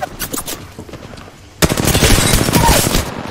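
Enemy gunfire in a first-person shooter video game, quiet scattered shots at first, then from about halfway a loud, sustained burst of rapid automatic fire that carries on to the end.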